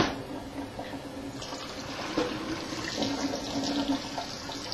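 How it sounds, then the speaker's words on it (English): Cold water runs from a tap into a sink around a brewing pan being cooled for witbier, a steady close rush of splashing flow with no pauses. "let some of that water out and replace it with cold water"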